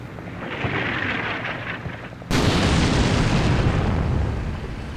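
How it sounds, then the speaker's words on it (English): Mortar and heavy artillery strikes landing east of a bridge in the war game Combat Mission Black Sea, a low rumble building before one sudden loud blast that rolls on as a heavy, fading boom. "We have heavy artillery coming down on us there, so that's our mortars coming in and striking east of the bridge."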